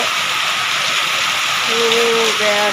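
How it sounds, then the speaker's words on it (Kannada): Steady rain falling in a garden, a dense continuous hiss close to the microphone, with faint tonal sounds appearing near the end. "ಅಷ್ಟರೊಳಗೆ ಮಳೆ ಬಂತು ನೋಡಿ"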